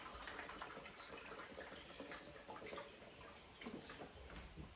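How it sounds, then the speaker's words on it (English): Coconut water pours into a 12-ounce cup, a soft continuous splashing gush that lasts a few seconds at low volume, with no one talking. "I'm going to fill up a 12-ounce cup here with coconut water."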